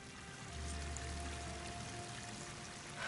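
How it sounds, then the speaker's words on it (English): Waterfall in the video game Horizon Forbidden West, a steady pouring rush of water with a low rumble, fairly faint and continuous, swelling slightly toward the end with no talking. "That waterfall must be coming from somewhere."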